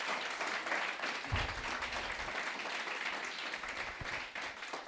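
Congregation at a church sermon on prophetic words applauds loudly and steadily for the full stretch, a dense sustained wash of many hands with a faint low thump partway through.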